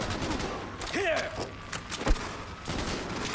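Bursts of covering gunfire in the video game Cyberpunk 2077, sharp shots crackling in quick succession amid combat noise, with a voice talking over part of it.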